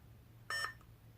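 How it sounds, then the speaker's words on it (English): A single short electronic beep from a lightsaber hilt with a Nano Biscotte v4 board, clear and close, against a low background hum. "if you hold it down just for a second, you hear that beep"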